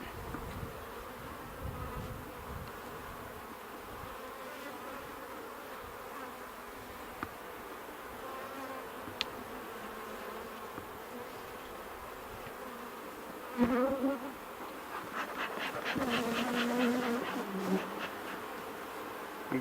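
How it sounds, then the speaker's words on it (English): Honeybees buzzing around an open hive being worked with a smoker, a dense, steady close swarm hum with sharper individual buzzes darting nearer toward the end. "I'm getting a few warning hits from the bees, so I'm just giving a little more smoke."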